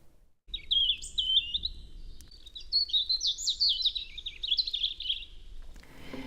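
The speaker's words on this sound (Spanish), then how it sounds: "Si escucháis cantar a un pájaro me diríais que está haciendo una melodía." A single songbird sings a long, rich warbling phrase of rapid twittering notes, clear and close, after a brief quiet start, with faint low background noise and no talking.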